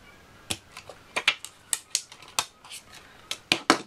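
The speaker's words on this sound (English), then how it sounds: "just grab our knife and we're going to cut that down that line" A knife slices along a ruled line through a plastic card while a simple model industrial silo is being built, giving a quick run of sharp, irregular clicks and snips close by, with no voices.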